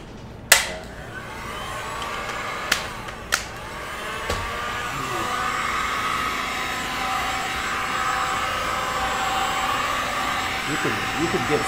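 A heat gun blows on poured resin, a steady loud close roar of rushing air that runs throughout, with a few sharp knocks near the start.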